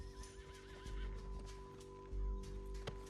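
A horse whinnies in Red Dead Redemption 2, its wavering neigh rising clearly over a steady in-game hum, with hoof clops and low rumbles around it and a brief sharp knock near the end.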